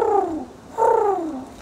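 A person imitates a pigeon's coo at a zoo, producing two falling, throaty warbles, the second after a brief pause, close and fairly loud with no other talk.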